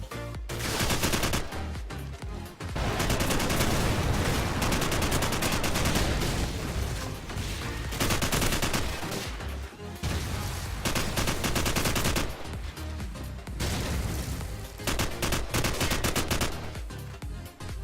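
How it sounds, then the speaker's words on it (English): MP44 assault rifle firing in Modern Warfare Remastered, with long sustained bursts of rapid automatic fire broken by a few brief pauses, loud and close throughout. "here's some gameplay of the MP44"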